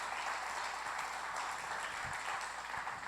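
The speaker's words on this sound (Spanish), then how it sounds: "Aplauda al Señor porque Él es el que lo va a hacer posible." A church congregation applauds the Lord during a sermon, a continuous wash of clapping heard faint and somewhat distant with a few low thumps, no one talking over it.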